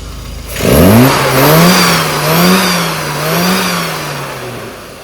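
A classic car engine revving on the throttle while its carburettor is tuned: one close, loud rev that rises, then wavers and holds through several throttle swells before easing off, with no talk.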